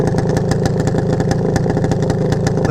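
A 1978 Yamaha DT400 motorcycle engine idles close up with a loud, fast, steady pulsing chug and some mechanical clatter.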